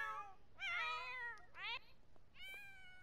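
A cat in The Sims 4 video game meows several times in quick succession, bright drawn-out mews with short gaps between them, fairly close and clear, with no talk.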